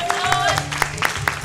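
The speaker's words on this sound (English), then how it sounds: "give a round of applause" Applause from participants during a team quiz round at a knee pain and osteoarthritis session, with scattered hand claps under a speaking voice and background crowd.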